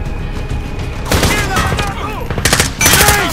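An enemy machine gun nest opens up in Call of Duty: Modern Warfare, with loud rapid bursts of automatic fire and booming impacts rising after the first second, while soldiers shout over the battle.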